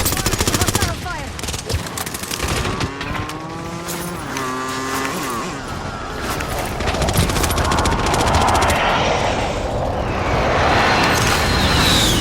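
Hostile gunfire in the Call of Duty Warzone video game, loud and continuous machine-gun bursts mixed with engine and tire noise and game voice lines throughout.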